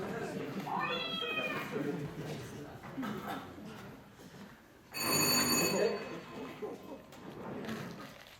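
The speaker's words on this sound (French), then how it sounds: "Monsieur Nestor, il y a votre téléphone portable qui sonne" A mobile phone rings loudly for about a second partway through a stage play, a bright electronic tone sounding over ongoing dialogue and room noise, with a brief meow-like cry heard earlier.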